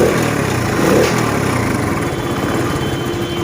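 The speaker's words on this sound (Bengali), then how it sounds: "ইঞ্জিনের সাউন্ড দেখেন" Restored engine of a modified classic-style Walton 80cc motorcycle idles nearby, a steady low putter with a rapid even pulse, loud and alone.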